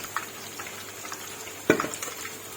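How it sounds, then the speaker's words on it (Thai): Food frying gently in oil over low heat, a soft steady sizzle with one sharp utensil clack against the pan partway through. "นี่ค่ะทอดไฟอ่อนๆไปเรื่อยๆค่ะ"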